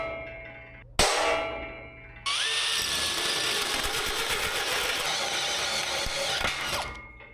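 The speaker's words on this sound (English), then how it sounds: "Two holes drilled. It is extremely hard drilling." A power drill bores holes through a thick steel winch bumper for a 4x4 truck camper. It starts with a sharp onset, then runs for several seconds as a loud, steady grinding whine, and no one speaks.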